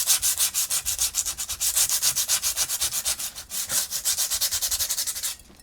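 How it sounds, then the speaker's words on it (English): Sandpaper scrubs quickly back and forth across a gold bar to clear off borax residue, a close, steady run of rhythmic rasping strokes that stops abruptly at the end. "But this is just a one-over piece of sandpaper. Make sure I got all that borax off of there."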